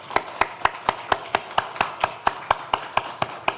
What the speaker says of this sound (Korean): 우리 한번 격려의 박수를 드리겠습니다.